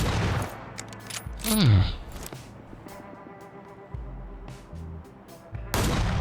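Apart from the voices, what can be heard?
gunfire in the video game PUBG Lite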